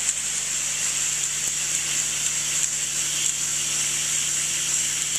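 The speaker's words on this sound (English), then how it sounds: "So it actually sucks the air through the back of the carpet." A carpet cleaner connected to a vacuum hose pulls air through the back of a carpet while removing a wine stain, giving a steady, unbroken hiss and suction rush with a faint low hum beneath, close and constant throughout.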